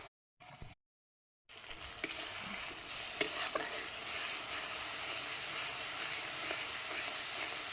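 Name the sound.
frying onion with ginger-garlic paste, stirring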